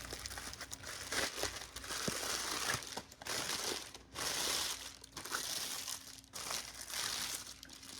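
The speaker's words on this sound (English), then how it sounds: "you just want to crumple parchment paper like this" Parchment paper is crumpled by hand in a kitchen while making nan khatai cookies, giving loud, close, continuous crinkling and crackling in bursts with brief pauses.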